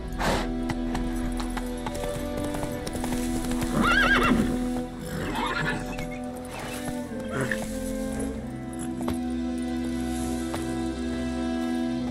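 Horse galloping and neighing in the video game The Witcher 3, with fast hoofbeats and a sharp whinny partway through over a steady background hum, while a voice speaks now and then.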